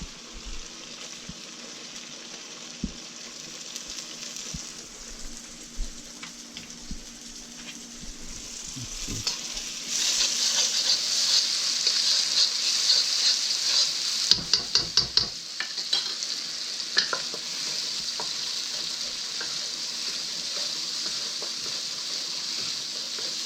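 Garlic noodles with scallions stir-fried in a pan, a steady sizzle with stirring and scraping that grows louder and busier midway, marked by sharp clanks of the utensil.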